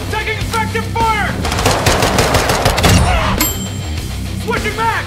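Video game gunfire from an FTAC Siege fired from the hip: loud, rapid automatic bursts close up, with shouted voices breaking in before and after the shooting.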